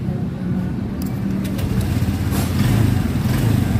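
A motorcycle electric starter cranks in a fault check after the battery is jumped with a screwdriver to negative, giving a continuous low droning whir close by with a few sharp clicks, steady and rising slightly near the end.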